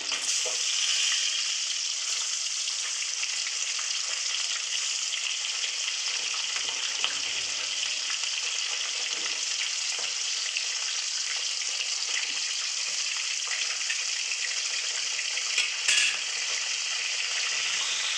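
Fish curry with spices and green chillies fries in hot oil in a continuous, even sizzle close up, with occasional stirring and no voices.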